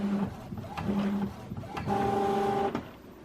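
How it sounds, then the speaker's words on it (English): A printer runs up close, its motor whirring in tonal pulses with short pauses between passes, mechanical clicks separating the runs. "I love this printer. Keep going. Go, printer,"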